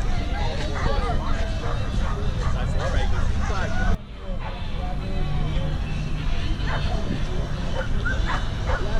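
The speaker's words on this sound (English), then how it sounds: "I don't know if you can hear the barking, but they got a big dog show going on next door." Many dogs at a big dog show next door bark and yip, some whimpering, in a busy overlapping chorus at moderate distance, with people talking over it throughout.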